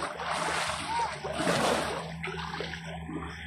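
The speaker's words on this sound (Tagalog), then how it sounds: "Lakas ng alon." Strong sea waves surge and splash loudly against rocks nearby, a rushing wash of water with a low background rumble.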